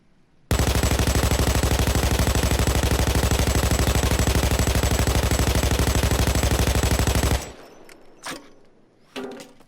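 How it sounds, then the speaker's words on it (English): RPK light machine gun in Payday 2 firing one long sustained burst of rapid, evenly spaced loud shots for about seven seconds, then stopping abruptly with a few faint clicks and rustles afterward. "let's see how the grouping is with the RPK."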